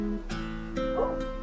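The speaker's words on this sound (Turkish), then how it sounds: "Dışarıda başıboş bir sürü köpek var." Stray dogs outside give faint, distant yips and whimpering barks, a few short muffled calls over a low steady background hum, heard through walls rather than up close.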